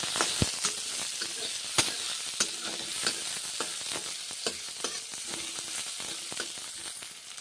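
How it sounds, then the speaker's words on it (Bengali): Onions frying in oil in a pan, with raw banana pieces fried in the same oil just before, for a rice and raw banana curry: a steady close sizzle broken by frequent sharp clicks and taps of stirring, with no voices. "পেঁয়াজগুলো ভেজে নিচ্ছি"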